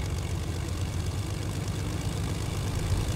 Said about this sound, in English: Planes are really easy to fly.